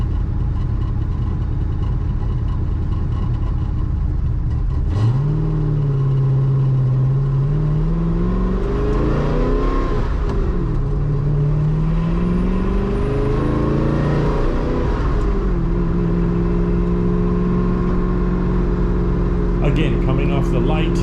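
An Ultima RS pulls away from a traffic light and accelerates hard through the gears, the engine note rising and dropping with each shift, loud and close under steady road noise.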